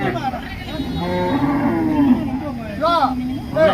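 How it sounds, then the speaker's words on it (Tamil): Cows at the Manapparai cattle market give long, loud, wavering moos, one call following another over a busy background of crowd noise and nearby talk. "பசு மாடு பசு மாடு"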